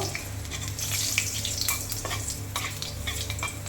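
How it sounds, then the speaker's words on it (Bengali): Panch phoron spices and a dried red chili frying in hot oil in a kadai, a close, steady crackling sizzle with light stirring clinks throughout. "এরপরে দিয়ে দেব একটু পাঁচফোড়ন আর শুকনো লঙ্কা, একটা শুকনো লঙ্কা ফোড়ন দিয়ে দেবো।"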